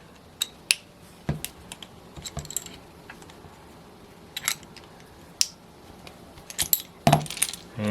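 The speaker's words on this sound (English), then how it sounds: "And you can hear it extracting that bearing." A cam bearing being pulled out with a cam bearing removal tool, giving irregular metallic clicks, ticks and scraping knocks at close range, with a sharper cluster of metal clatter near the end and no talking.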